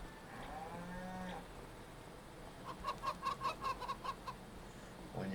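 Cattle lowing on a farm, one drawn-out moo early on, with clucking chickens in a rhythmic burst of short calls midway and another moo starting at the end.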